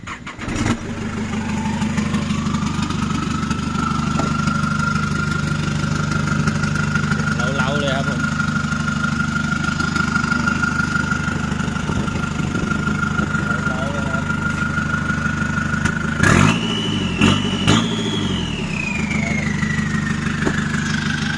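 A 2007 Isuzu D-Max Hi-Lander pickup runs at a steady, close idle for most of the stretch, then gets a few quick revs near the end that rise sharply and fall back, with a brief voice heard under the engine.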